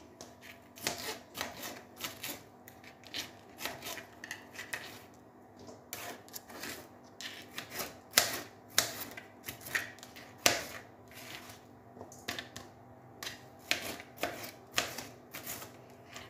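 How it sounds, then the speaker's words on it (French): A knife coarsely chops pieces of leek for a pan-fried herb vegetable medley, with a series of close, irregular sharp taps and cuts on a board and no talking. "On fait la même chose avec quelques morceaux de poireaux, assez grossièrement aussi."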